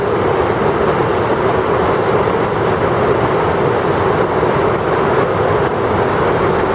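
A steady, dense roar of water falling over a dam on the Seversky Donets river, loud and continuous throughout with no pauses, like a heavy flow pouring over a spillway.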